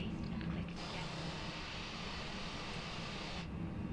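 Airbus A320 jet engines in Microsoft Flight Simulator 2020, heard as a steady, broad roar that holds at an even level throughout, with a brighter hiss band dropping away briefly near the start and again near the end.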